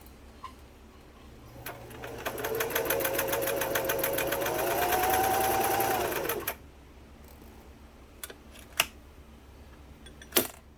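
A Singer 328k sewing machine, run by a foot pedal on the floor, stitches in a fast, steady mechanical whir for about four seconds, speeding up slightly before stopping, with a few sharp clicks afterward.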